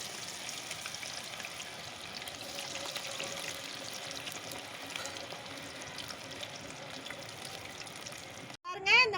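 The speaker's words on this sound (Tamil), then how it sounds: "இந்த மாதிரி மொறுன்னு நல்லா பொரிச்சு எடுத்துக்கோங்க" Cauliflower pieces for Gobi Manchurian deep-fry in hot oil with a steady, close sizzling hiss, then a brief clatter near the end.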